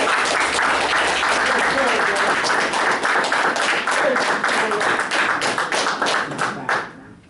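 A crowd gives a round of applause for a speaker at a Nation of Islam talk, dense continuous clapping that holds steady for several seconds, then thins out and fades near the end.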